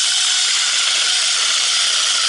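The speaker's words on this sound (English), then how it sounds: "I take my screwdriver bit, the Phillips bit, and I just center it up in the hole like this, and then I run the drill" Power drill spinning a Phillips screwdriver bit centered in a hinge screw hole, a steady loud high-pitched whine running unbroken throughout.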